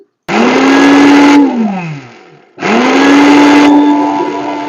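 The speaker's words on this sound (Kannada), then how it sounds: "ಇನ್ನೊಂದ್ಸರಿ ಇದನ್ನ ಮಿಕ್ಸಿ ಹಾಕ್ಕೊಂಬಿಡೋಣ" A mixer grinder grinding flax seeds into powder whirs loudly in two bursts, the motor pitch sliding down as it winds off between runs, then spinning up again.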